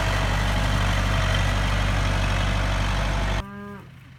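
Cattle out bale grazing on winter pasture, with a steady low rumble throughout and a single drawn-out moo near the end as the rumble drops away.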